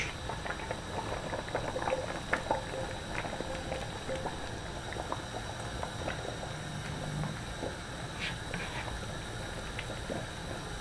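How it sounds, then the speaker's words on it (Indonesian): Jengkol rendang simmering in a pot as its thick, spiced gravy reduces, giving a steady close bubbling and popping with soft patter throughout. "Ini kita masak sampai nanti menyusut ya kuahnya."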